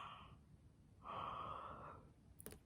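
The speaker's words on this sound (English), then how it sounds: "Yawn your sleepies out." A drawn-out yawn-like breath during a children's bedtime song session, an open breathy exhale rising for about a second, a pause, then another longer yawn, soft and close with a small clatter at the end.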